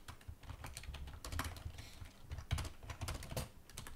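Rapid bursts of typing on a computer keyboard, clustered keystrokes in quick irregular runs, close and clear with no voices.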